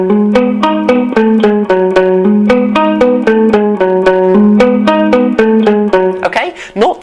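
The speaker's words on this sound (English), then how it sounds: "he uses a little bit of palm muting" Electric guitar riff played with light palm muting at the bridge; steady, evenly picked eighth notes with a repeating bass-note pattern, loud and alone, ending in a brief scrape.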